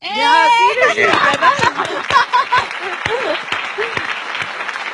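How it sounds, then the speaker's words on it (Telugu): Audience applause breaks out at a Telugu talk event, a dense wash of clapping that swells loudly at first and keeps going steadily throughout, with voices and chatter mixed in. "బట్ మనం ఒక విధంగా క్లాప్ కొడదాం"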